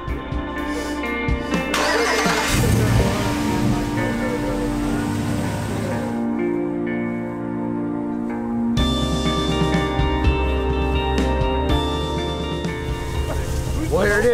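The engine of a fully built International Scout cranks and catches, then runs with a rough, throbbing idle and some revving. Someone talks excitedly over it in places.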